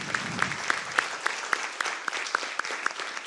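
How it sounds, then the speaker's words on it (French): Audience at a round-table panel on entrepreneurship and human capital applauds steadily, a dense wash of many hands with a few sharper near claps standing out at a regular pace, with no talk over it. "Et je demande à la salle de vous applaudir très chaleureusement."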